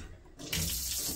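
Water gushes from a tap in an old abandoned 17th-century pub, starting abruptly partway through and running as a steady close hiss.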